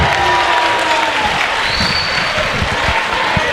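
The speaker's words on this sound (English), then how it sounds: "Certainly got the benches cheering." Crowd cheering and applauding after a three-point shot at a basketball game, a steady loud roar of claps and shouts filling the gym throughout.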